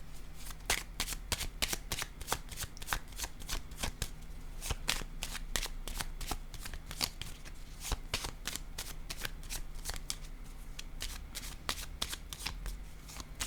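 Playing cards are shuffled close up in a steady stream of crisp riffling snaps for over a dozen seconds, with no voices.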